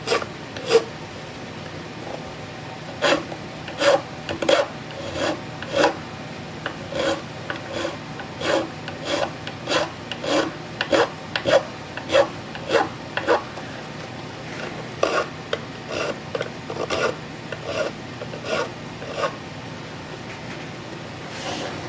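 A steel file rasps across a mandolin nut during a new nut and saddle setup on an Eastman mandolin, close and steady, with repeated short strokes in an even rhythm and brief pauses between runs.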